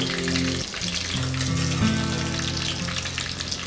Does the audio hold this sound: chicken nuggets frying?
yes